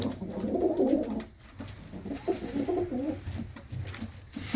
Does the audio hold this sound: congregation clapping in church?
no